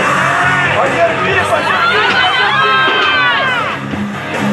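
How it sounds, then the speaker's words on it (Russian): A crowd at a weightlifting event cheers and whoops for a lift, loud and close, with shouting voices and chatter layered over the noise. "Аплодисменты, поддержим, поддержим, поддержим."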